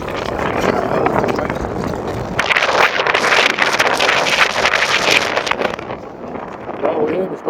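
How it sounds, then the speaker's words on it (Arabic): Strong sea wind buffets the microphone at a marina in Egypt, giving a loud, rough, continuous roar that grows harsher halfway through, with muffled voices partly buried beneath it. "سامحوني بقى لو الهوا شديد."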